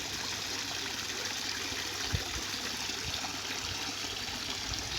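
Water from a garden waterfall extension trickles and splashes in a steady, even wash. It stays moderately close and constant throughout, with a few faint low knocks beneath.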